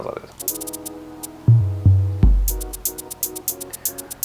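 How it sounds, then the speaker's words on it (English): Three deep drum hits, a tom and kick struck together with one re-pitched, land in quick succession, each a punchy low thump with a pitched boom, over a steady hissing hi-hat pattern and background hum. "I think it's a tom and a kick at the same time,"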